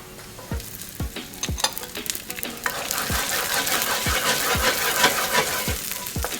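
Green beans sautéing in a hot pan with oil, shallots and garlic, a steady loud sizzle broken by repeated sharp scrapes and clacks of stirring, no voices.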